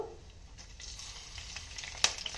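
Mustard seeds, cumin, curry leaves and dried red chilies frying in two tablespoons of oil in a kadai, a soft close sizzle with scattered crackles and one sharp pop near the end.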